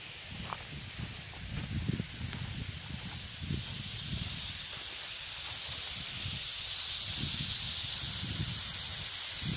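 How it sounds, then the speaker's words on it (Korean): A fountain sprinkler hose laid along a dry onion field sprays water in a steady broad hiss that grows slightly fuller over time, with soft irregular low rustles and thumps underneath and no talking. "가물어서 분수 호스를 설치하고 물을 주고 있습니다."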